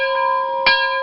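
A bell tone rings out clearly and sustains, with a second sharp strike near the end adding a brighter ring.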